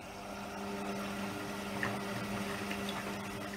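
Steady rushing water with a low mechanical hum as a Hotpoint/Indesit washing machine drum fills, continuous and even throughout.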